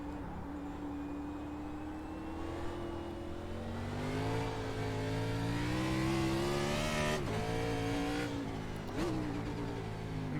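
The engine of a NASCAR Cup car on the Daytona Road Course in iRacing drones steadily, then its pitch climbs as it downshifts, with sharp rev blips and a few dips in tone, sounding close and alone.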